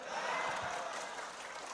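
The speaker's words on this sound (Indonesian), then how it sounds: "tepuk tangannya keras lagi" A crowd clapping loudly together, a dense wash of applause that holds steady and tapers slightly toward the end.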